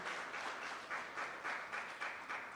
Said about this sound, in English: Give NCBJ a round of applause.